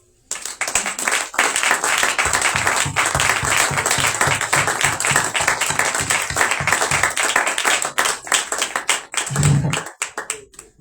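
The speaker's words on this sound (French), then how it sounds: "Acclamez pour lui." A crowd applauds the newly elected pope, dense sustained clapping from many hands that builds quickly, stays loud for about nine seconds, then tapers off near the end.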